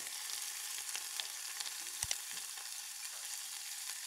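Shallots fry in butter in a sauté pan, a steady close sizzle with a few faint pops and clinks of stirring, no talking.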